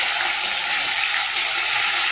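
Fish sizzling steadily in hot oil in a home kitchen just after being turned over, a continuous close hiss of frying with no talk.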